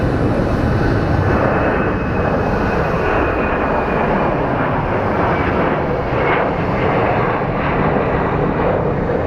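An Alaska Air jet airliner passing at Phoenix Sky Harbor airport, a loud, continuous broadband engine roar that fills the whole stretch with no talking.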